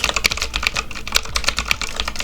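Rapid clacking of keys on a computer keyboard fills the short stretch, a steady, close, fairly loud patter of keystrokes with no voices.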